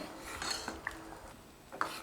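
A utensil clinks and scrapes against a metal pot of mushroom soup in a few light, scattered knocks over a low background hiss.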